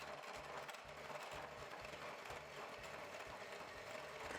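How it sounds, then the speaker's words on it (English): Electric mixer running on high to beat eggs for flourless brownies, a steady mechanical whir with a fast rhythmic rattle of beaters in the bowl, continuous and fairly faint with no talking. "Once my mixer is running on high, I'm going to continue to beat everything together"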